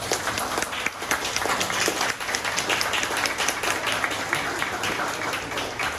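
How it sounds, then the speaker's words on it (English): Audience applause at a university communication skill center's 50th anniversary event, a steady wash of clapping from a moderately distant crowd, continuous throughout. "So give them a round of applause."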